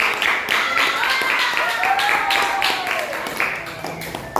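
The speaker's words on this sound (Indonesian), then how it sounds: "Tepuk tangan untuk Kamu" Applause for a student in an Indonesian-language classroom lesson, a dense run of hand claps spread across the room, fairly loud and steady throughout with voices mixed in.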